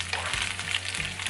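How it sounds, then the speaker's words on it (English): Meat browns and crisps in a pan, a steady, moderate frying sizzle heard alone. "So we're just gonna let it brown up and let the meat get slightly more crispier."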